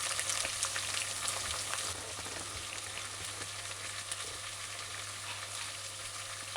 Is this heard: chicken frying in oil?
yes